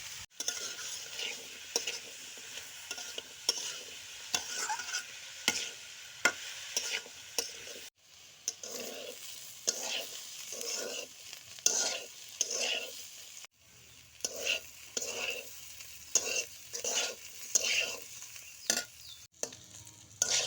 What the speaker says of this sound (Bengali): সিমগুলো দিয়ে ভালোভাবে ভেজে নেব।